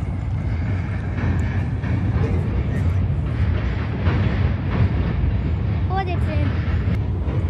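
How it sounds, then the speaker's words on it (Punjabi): A train rumbles past near a sunset spot in Abbotsford, Canada, a steady low roar with faint clatter and a brief high squeal near the end, as people talk over it. "ਜੋ ਟ੍ਰੇਨ ਲੰਘ ਰਹੀ ਹੈ"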